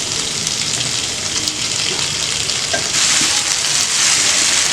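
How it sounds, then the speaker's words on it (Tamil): Mutton for a chukka fry sizzling as it goes into fried onion masala in a pan, a loud steady hiss close by that swells brighter and stronger partway through, with light stirring noises. "இப்போ இதில் வந்து நம்ம கறி ஆட் பண்ணிக்கலாம்."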